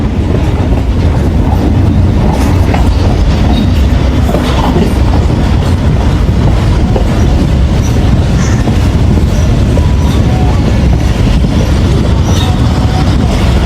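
Khyber Mail passenger train of Pakistan Railways rolling on rails at night near Wazirabad Junction, a loud continuous rumble with rhythmic clickety-clack of wheels, heard from on board.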